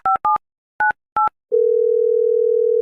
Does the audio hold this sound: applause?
no